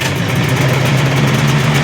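Free old snowmobile engine already running after a single pull, a loud steady idle with a low droning hum and slight rhythmic pulsing, close by with no talking.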